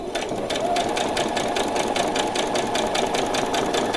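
A sewing machine runs steadily, stitching a few forward stitches then a couple of back stitches while making a frilled top, a continuous close whirring with rapid regular needle pulses throughout.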